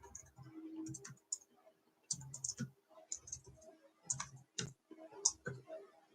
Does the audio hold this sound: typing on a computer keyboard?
yes